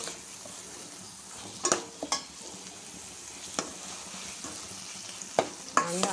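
Boiled eggs are stirred through a spicy egg curry in a pan, with a steady sizzle under several sharp clinks and scrapes of the spoon against the metal.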